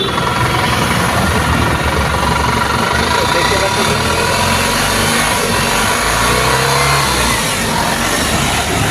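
A warmed-up TATA Mega XL engine runs close and loud, a steady idle rumble that rises with revs, while someone talks over it.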